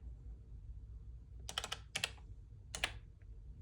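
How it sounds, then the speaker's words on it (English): Short bursts of keystrokes on a computer keyboard, three quick clusters of clicks in a quiet room with a low background hum, close and fairly faint. "Why did I just type?"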